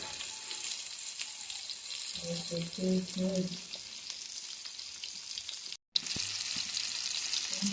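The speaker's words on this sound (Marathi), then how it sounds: "ओली मच्छी आणि ही फ्राय केलेली. फ्राय करतोय." Fresh fish frying in a pan gives a steady, close sizzle throughout, with a brief dip near the end and some faint clatter of handling partway through.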